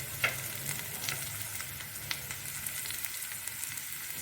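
Sliced capsicum added to carrots and other vegetables frying in a pan, a steady soft sizzle throughout with a few light clicks and scrapes of a spatula, close and fairly quiet, no voices.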